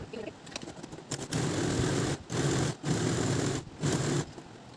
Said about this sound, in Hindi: एक के ऊपर एक जिगजैग तरीके से सिलाई चला के ना इसको पक्का कर लेंगे